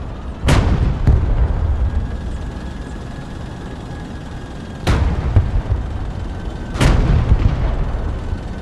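A tank firing armor-piercing kinetic rounds in the game Broken Arrow: four sharp, heavy booms spaced a few seconds apart, each with a rumbling tail over a constant low mechanical drone.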